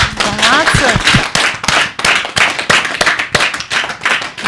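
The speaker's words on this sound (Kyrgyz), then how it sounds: "Кол чабалар болсун." Audience clapping on a Kyrgyz TV talk show, loud and close, with sharp individual claps merging into rhythmic bursts, while a voice briefly speaks over the start.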